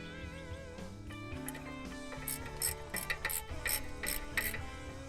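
A ratchet turns a 10 mm bolt on the ABS line clip during strut replacement on a Dodge Caravan or Chrysler Town and Country, giving steady clicking bursts over a droning background hum.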